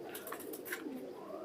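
A pigeon gives soft cooing calls, a short murmuring coo close by and fairly faint, with no talking.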